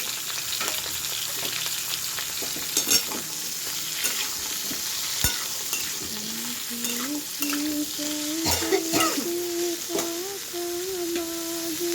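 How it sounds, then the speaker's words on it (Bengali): Soybean chunks and potato frying with pointed gourd in a pan, a constant bright sizzle with irregular stirring scrapes and clinks, plus a faint whistling tone in the background late on. "এবার সোয়াবিনটা আলুটা ভালো করে পটলের সাথে ভেজে নেবো"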